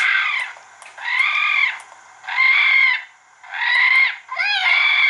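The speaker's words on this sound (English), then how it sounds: "I mix that coon in distress and that cottontail in distress." An Icotec 300 Gen 2 electronic caller plays a mixed raccoon and cottontail rabbit distress call: five loud, wavering squalling cries in a row, each about a second long with short gaps.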